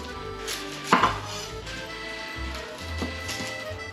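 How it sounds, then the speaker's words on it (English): An onion is chopped with a knife on a board for beef bourguignon, a few distinct thuds and knocks standing out near and clear over a low background hum. "let's get our onion chopped and our garlic minced"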